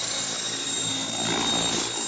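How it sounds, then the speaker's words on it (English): A hand-built radio-controlled model helicopter on its first flight, its rotor and motor whining steadily at low head speed, loud and continuous throughout without any voices. "it's a great helicopter"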